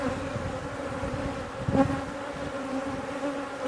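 Honey bees buzz steadily around an open hive during an inspection, a dense continuous drone with individual insects flying close past, loud throughout.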